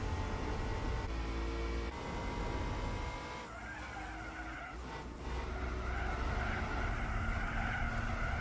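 A Fiat car races in the Gran Turismo 4 video game, its engine droning loudly while tires skid and squeal through corners, the tone shifting midway as the car slides before the engine note resumes.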